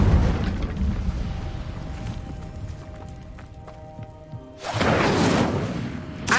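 Incendio fire spell in Hogwarts Legacy, a sudden loud whooshing roar of flame that flares up after a quieter stretch of game ambience and footsteps.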